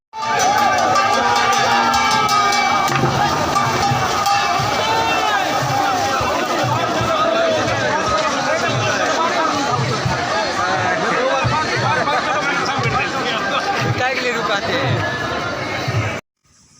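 A large, dense crowd at the Rath Yatra chariot festival, with continuous babble, shouts and cheering from many voices throughout, loud and close, with no single voice standing out.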